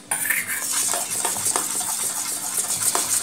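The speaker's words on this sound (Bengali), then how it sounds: "এটাকে ভালো করে আমি গুলে নিয়েছি" Utensil scraping and clinking in a bowl while batter for stuffed pointed gourd (kakrol) is mixed, a steady run of small close taps and scrapes with no talk.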